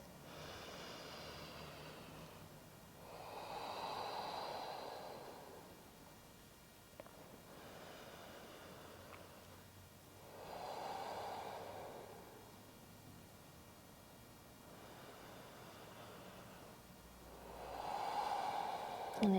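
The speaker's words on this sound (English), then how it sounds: "Three more deep breaths." Slow, deep yoga breaths: soft, airy inhales and exhales recur about every few seconds, close and quiet, with no talk.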